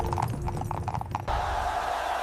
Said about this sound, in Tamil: அரசு குதிரை ரதம் நகரத் தொடங்கியது